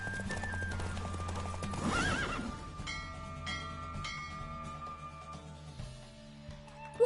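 Rhythmic hoofbeats of a galloping horse with a neigh in The Witcher video game, amid ambient music-like tones, fading toward the end.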